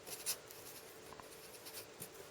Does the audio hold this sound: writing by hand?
yes